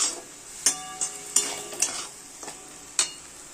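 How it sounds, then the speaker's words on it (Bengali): Prawn head paste with Kashmiri chilli powder frying in oil, a steady sizzle broken by several sharp scraping stirs of a spatula against the pan, close and fairly quiet with no talking. "এটা দিয়ে আমি আরও ভালো করে এটাকে কষাবো তেলের সাথে"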